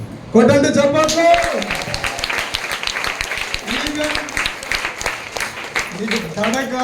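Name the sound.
applause, congregation clapping hands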